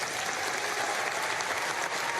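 A crowd at a gun-control speech applauds loudly and steadily, a dense, continuous clatter of many clapping hands with no voices standing out.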